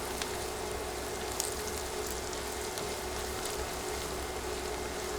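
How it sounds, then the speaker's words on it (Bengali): Onions with turmeric and salt frying in a pan make a continuous, even, fairly quiet sizzle. It holds steady the whole time with only faint crackles and no voices. "দুই মিনিটের মতো পেঁয়াজ ভেজে দিচ্ছি"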